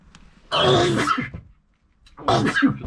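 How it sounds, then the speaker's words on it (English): Two loud, close bursts from a person, one longer and one shorter after a brief silence, like a sneeze followed by a throat-clearing sound. "you're sneezing"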